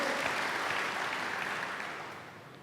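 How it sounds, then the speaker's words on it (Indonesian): Applause from a church congregation fills the hall, a dense steady wash of clapping that fades slowly toward the end. "tepuk tangan bagi Allah kita, saudaraku"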